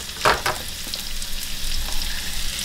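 Tallow sizzles in two frying pans while breakfast is cooked for dinner, a steady close hiss with a couple of sharper crackling bursts near the start.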